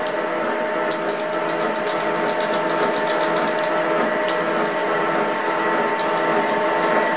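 A Harrison milling machine runs with a slow, reversible table feed at about 100 RPM, giving a steady mechanical hum and whine with faint periodic ticks, loud and continuous throughout.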